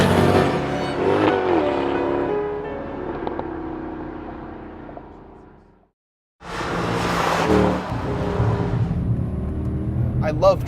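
A 2008 Mercedes-Benz CLK 63 AMG Black Series engine revs and pulls loud and close, fading over several seconds, then cuts to silence before surging back just as strongly.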